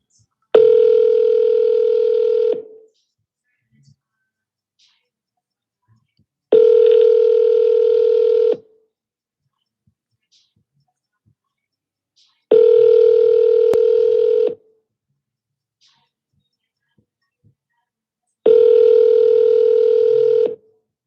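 A telephone line tone sounds in four steady bursts of about two seconds each, evenly spaced by pauses, on a repeated call to a for-sale-by-owner home seller that goes unanswered; no one talks.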